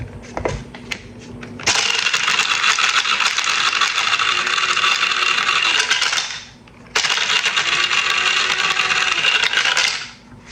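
Dinner mints being crushed in a grinder give a loud, rasping mechanical grind in two long bursts, separated by a short pause, after a few quiet knocks at the start.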